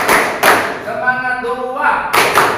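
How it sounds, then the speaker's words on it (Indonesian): A school class does a rhythmic spirit clap in a classroom: bursts of many hands clapping together open and close the moment, with voices chanting between them. "kita lakukan dulu tepuk tangan semangat ya"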